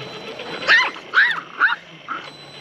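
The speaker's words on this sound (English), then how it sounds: "He is a teacup schnauzer" A small teacup schnauzer yipping in three or four sharp, high barks spaced roughly half a second apart, fairly close and alone over a quiet background.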